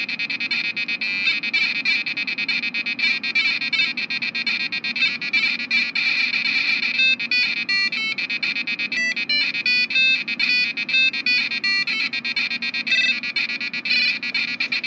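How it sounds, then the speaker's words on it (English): Video game music beeped out through the internal PC speaker of an old Dell computer, a steady stream of thin, buzzy square-wave tones running continuously at moderate loudness. "you have an option to play music through the PC speaker"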